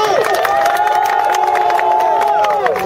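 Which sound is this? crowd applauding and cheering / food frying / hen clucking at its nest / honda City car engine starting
crowd applauding and cheering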